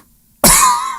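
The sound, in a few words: person coughing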